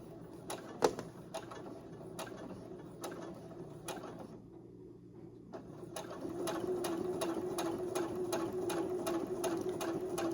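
A domestic sewing machine with a hump jumper under the foot stitches in quick rhythmic mechanical ticks. It pauses briefly, then runs on in a faster, steadier whir, close and fairly loud.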